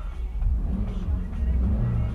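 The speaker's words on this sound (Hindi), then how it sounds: "तो अभी मैं थोड़ा सा रेव करता हूँ गाड़ी को" A 2018 Hyundai Santro automatic revved in place, its engine rumbling low and rising gently in a couple of modest swells, heard from inside the car.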